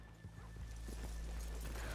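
Horse hooves clip-clop and a horse whinnies in muddy Red Dead Redemption 2 game audio, steady and fairly close over a low background rumble.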